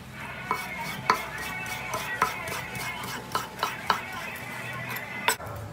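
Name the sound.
chopping chicken breast finely on a board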